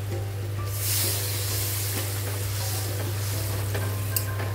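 Hot water poured onto fried masala in a kadai for paneer, setting off a steady hissing sizzle with light stirring scrapes, a constant low hum underneath and no voices.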